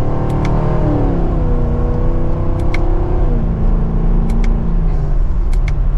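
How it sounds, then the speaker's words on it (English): A 2024 Chevrolet Camaro 2SS convertible with a naturally aspirated V8 accelerates from second gear, its loud, rumbling engine note rising steadily in pitch through the gears, heard from inside the car. "we're up to speed with a mild acceleration for that naturally aspirated V8"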